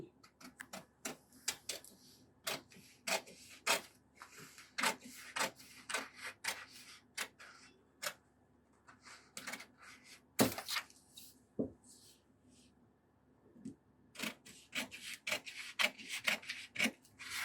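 Shirt fabric being cut by hand for a full or half sleeve on a men's shirt, heard as a steady run of crisp, close scissor snips and rasps with brief pauses between them.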